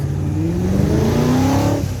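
A 1960s Le Mans V8 race car accelerates hard up a hill climb course, its engine note rising loud and near through the gears with a rough, throaty rasp, then cutting back at the end.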